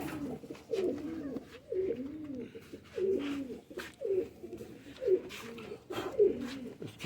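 Patti wala cross pigeons coo on a rooftop in soft, repeated low calls that come in regular bursts about once a second. The birds sound near but quiet.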